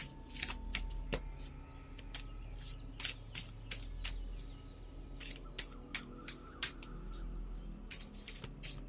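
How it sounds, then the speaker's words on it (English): Ancestor Spirit Oracle cards riffled and shuffled by hand in a quiet room, a steady run of crisp papery flicks and slaps with short snaps as cards are drawn and set down. "let's go ahead and draw out one of these Ancestor Spirit Oracle cards"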